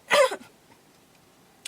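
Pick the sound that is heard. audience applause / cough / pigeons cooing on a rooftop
cough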